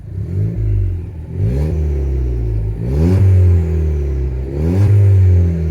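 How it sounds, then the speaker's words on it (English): A warm 1.6 litre four-cylinder Mk7 Ford Fiesta ST engine with aftermarket exhaust and tune idles steadily and is blipped up in revs three times, each rise quickly settling back to idle. No talking. "That's what it sounds on start up."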